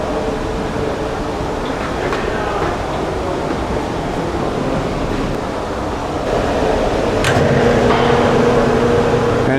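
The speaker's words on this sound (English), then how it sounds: "turn on the dust control by opening the blast gate" A dust collection system runs at a workshop sander station after its blast gate is opened, producing a loud, steady broadband rush of air that swells slightly louder partway through, with a few faint mechanical clicks.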